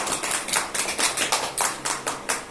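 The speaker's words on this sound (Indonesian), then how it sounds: "Tepuk tangan untuk Mas Aziz" A small group, likely a classroom, claps for a student after a presentation, with an even, rhythmic run of close, crisp hand claps, steady and loud without talk.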